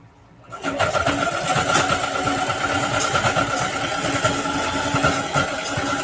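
A sewing machine stay stitches fabric with a long stitch length of 4, running steadily and fairly loud after a brief quiet start, its rapid even mechanical rhythm continuing to the end.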